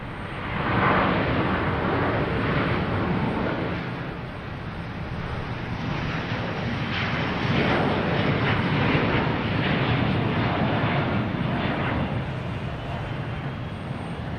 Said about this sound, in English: Taking off, we have a Delta heading to Amsterdam, an A330-900, flight 256.